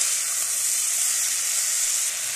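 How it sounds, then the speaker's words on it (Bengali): Potatoes fry in a spice paste, giving a steady, dense, close sizzle that holds even and loud throughout with no talking. "আলুটাকে ভালো করে মশলার সঙ্গে কষিয়ে নিয়েছি"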